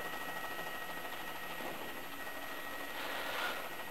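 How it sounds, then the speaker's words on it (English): Police helicopter hovering overhead during a vehicle chase in Charlotte, NC, a steady, fairly loud broadband rotor and engine roar that holds throughout and swells slightly near the end. "And we do have a police helicopter on top to us."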